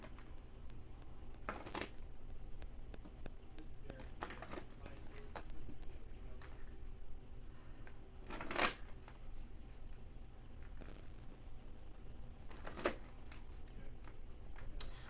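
Tarot cards are shuffled repeatedly in quiet, sharp riffling bursts spaced a few seconds apart, with soft handling noises between them.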